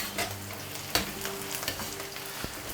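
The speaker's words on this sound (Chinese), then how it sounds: "中途的时候呢，我们就放入这个叫干葱，给它放进去" Shallots drop into a hot pot over high flame, setting off a close, steady sizzle with a sharp clatter near the middle and a few scraping stirs, no voices.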